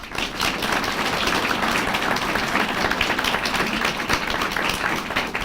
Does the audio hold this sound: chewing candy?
no